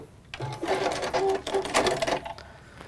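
A sewing machine stitches a rectangle of fabric onto a middle section in a workshop. The motor whirs in a close, steady burst of about two seconds, starting and stopping cleanly with a faint voice at the edges.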